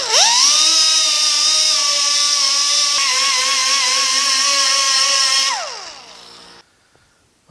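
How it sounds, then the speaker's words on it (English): A wire wheel on a grinder whines loudly and steadily as it strips paint from a 1950 Chevy truck door, then spins down and stops near the end. "That wire wheel does a great job."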